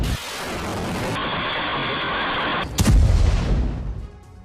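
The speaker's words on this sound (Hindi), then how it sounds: "यह दक्षिणी गाजा की तस्वीर आपके सामने, जहां पर भीषण बमबारी को अंजाम दिया गया" Heavy bombardment in southern Gaza comes through as a dense, roaring wash of noise, broken by a sudden deep, booming blast that rumbles and slowly fades.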